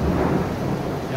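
Rain falls steadily at night near a cemetery while thunder rumbles low and heavy underneath, a dense continuous wash of downpour with a deep rolling roar throughout and no speech.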